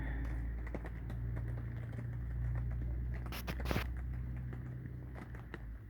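Rain patters steadily outdoors where small birds are out, with light scattered ticks and drips over a low constant background and one brief louder splash near the middle.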